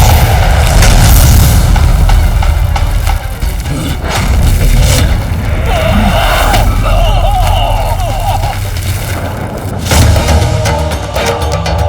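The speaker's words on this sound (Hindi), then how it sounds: "कैसा विस्फोट था?" A deep, booming explosion rumbles loudly and continuously, with heavy low-end roar and crackling debris, and faint voices briefly surfacing partway through, in the TV series Vighnaharta Ganesh.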